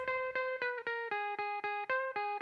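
Dry guitar with no reverb, picked in a quick, even run of about ten bright notes with clear attacks and short tails, close and alone.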